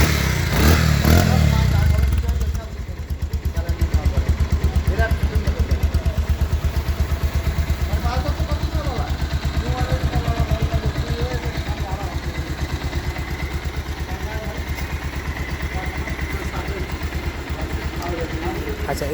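A Bajaj Pulsar 150 motorcycle engine starts up close, then settles into a steady, loud idle with a continuous rhythmic throb and faint clatter, running on without a break.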